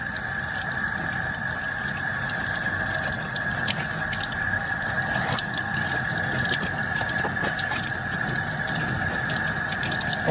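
A sink tap runs in a steady, loud gush while work gloves are washed with OxiClean, the water noise constant and unbroken from start to finish.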